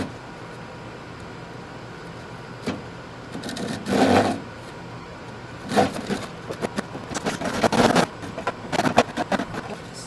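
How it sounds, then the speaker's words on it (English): A hand saw finishes notches cut into a wooden stair stringer, with short rasping strokes in a few bursts separated by pauses, close and moderately loud. "So now we'll finish off our notches by coming through with the hand saw."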